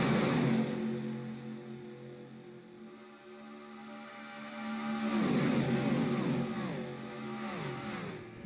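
NASCAR race cars roaring around Talladega in a racing video game, a sustained engine drone at moderate volume with cars passing and pitch sweeping as they go by, no talk over it.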